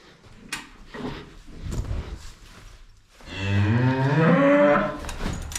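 Cattle low in a barn with a long, loud, close moo that swells and then fades, preceded by quieter shuffling and knocking sounds.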